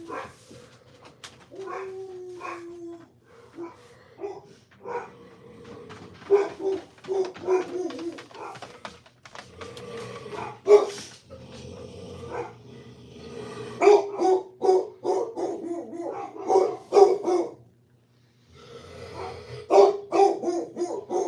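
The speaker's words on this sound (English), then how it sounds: "I know what the dogs are barking about." Dogs bark repeatedly in scattered bursts, with some whimpering, fairly close and loud against a quiet background.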